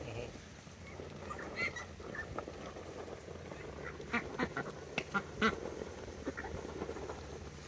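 Hungry domestic ducks, descendants of the mallard, quacking steadily in a group, with sharper louder calls clustering toward the end over a busy outdoor background.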